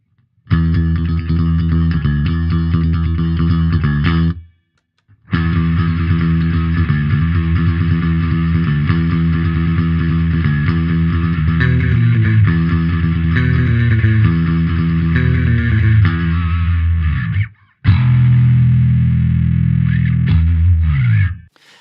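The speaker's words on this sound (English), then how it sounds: "I'll start clean, and then I'll engage the distortion" Bass guitar plays a melodic line through a Blackstar Unity Pro bass distortion pedal, with a gritty, pedal-style distortion, loud and sustained, with brief silent gaps between phrases.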